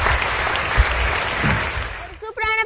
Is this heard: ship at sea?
no